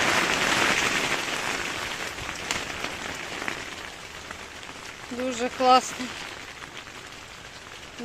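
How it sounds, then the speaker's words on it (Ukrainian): Steady rain patters over a greenhouse at a dacha throughout, with a person speaking briefly over the downpour partway through. "Дощик іде."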